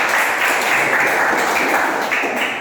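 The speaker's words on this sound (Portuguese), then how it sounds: "Uma salva de palmas para o nosso professor Augusto" Applause for a teacher at a morning church service: a dense, steady wash of many hands clapping together, fairly loud and continuous throughout with no pauses.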